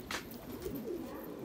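Feathered-foot pigeon giving a soft, low coo, faint and close, with a brief higher chirp-like sound at the start.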